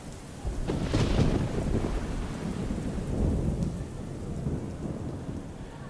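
Thunder in a rainy night scene of an audio drama: a loud rolling crack and deep rumble over steady falling rain, swelling again briefly before fading to the rain alone, with no voices.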